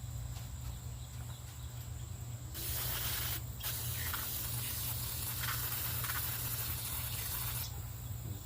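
Carburetor cleaner sprayed onto a 1990s Snapper 20-inch push mower, heard as a steady close hiss starting partway through and running several seconds, with a brief pause, over a low background hum.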